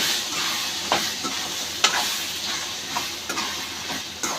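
Chopped eggplant frying in oil for an eggplant thokku, giving a steady close hiss and sizzle with occasional light stirring clicks and taps scattered throughout.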